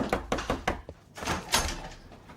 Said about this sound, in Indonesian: ada seseorang yang mengetuk pintu di depan